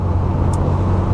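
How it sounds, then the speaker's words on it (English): Rover 220 Turbo Coupe with a 200 bhp four-cylinder turbo engine, a steady bassy hum and drone with a faint brief whistle near the middle, loud and continuous with no talk. "you've got all the kind of the whining of the turbo, and you've got that wastegate kind of whistling at you every time you change up or down"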